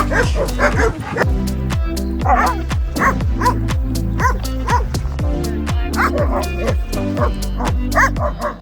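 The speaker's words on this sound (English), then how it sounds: "He is a Husky Malamute type dog." A Husky Malamute type shelter dog barks and whimpers in close, repeated bursts, loud yips and whines coming one after another with little pause.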